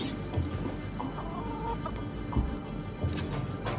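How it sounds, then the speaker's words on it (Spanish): A chicken clucks in the video game Assassin's Creed Mirage, several short nearby clucks spread across a few seconds over a steady background ambience. "Sí, la gallina."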